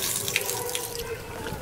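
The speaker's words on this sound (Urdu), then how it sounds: "یہ ہاتھ کو کلائی تک دھونا ہے," Water running from a tap as hands are washed up to the wrists during ablution, a steady close splashing stream with small drips and no voices.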